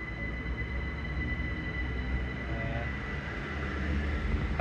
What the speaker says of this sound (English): Oh, shoot, our train.